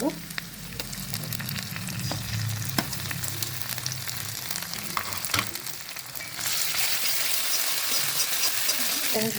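Ginger-garlic paste sizzles and fries steadily in a hot pan while being cooked for aloo dum, with scattered stirring clicks and a hiss that brightens and grows louder toward the end.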